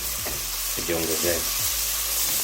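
Greens fry in a pan with a dense, continuous sizzle up close, broken by a few scraping stirs, and a voice briefly murmurs in the middle.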